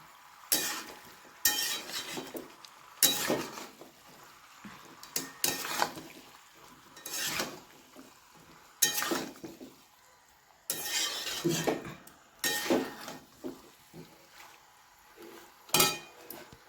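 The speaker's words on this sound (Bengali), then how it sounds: "এবারে এটার মধ্যে দিয়ে দিলাম আলু ভেজে রাখা আলুগুলো আবার এটা নেচে আবার ঢাকা দিয়ে দেবো" Fried potatoes are stirred into a chicken curry in a pot with repeated loud scraping and clanking bursts of a spoon against metal, separated by short pauses, and a lid clatters as the pot is covered.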